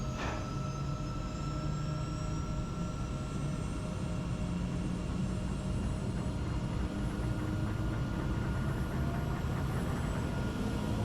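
An AW139 helicopter turbine engine starting: a loud, steady turbine roar with a rising whine, a sharp click near the start, continuous engine noise building throughout.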